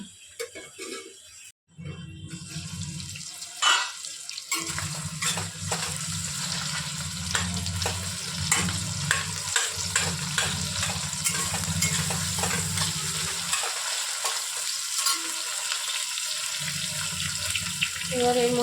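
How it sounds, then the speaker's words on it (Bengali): Chopped onion and tomato fry in hot oil in a pan and are stirred, giving a steady, close sizzle with repeated scraping strokes. Brief pauses break the sizzle. "এটা ভাজা ভাজা করে নিতে হবে।"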